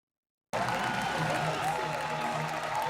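After half a second of silence, a large esports arena crowd breaks into sustained cheering and applause, a dense roar with rising voices and a chanted tone carrying over it.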